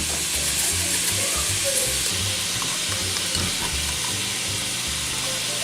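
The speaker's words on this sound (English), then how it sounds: "So we just cooked the bacon in there. Now I'm going to put in the ground. We got ground chuck." Ground chuck sizzling in a pan of bacon fat with minced onions, a steady loud hiss and crackle of frying with occasional stirring scrapes, close by.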